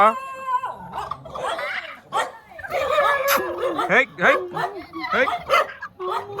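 A dog barks and yelps in short bursts close by, mixed with people calling out and talking over it.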